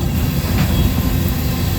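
Norfolk Southern freight cars with rotary end couplers roll past in the rain, a steady dense rumble with constant wet hiss filling the whole moment, no voices.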